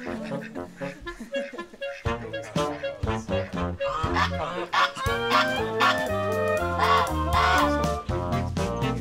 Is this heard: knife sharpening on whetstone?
no